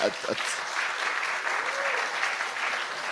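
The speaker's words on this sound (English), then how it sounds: "Please clap hands for him." An audience applauds in a dense, steady wash of clapping that holds evenly from start to finish, with a voice briefly audible at the beginning.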